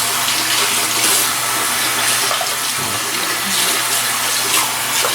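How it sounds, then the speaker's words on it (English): Running water splashes and trickles steadily as shaving brushes are wetted in a shaving bowl, a continuous close, moderately loud wash with no talking. "I'm gonna go ahead and load each brush and get them wet"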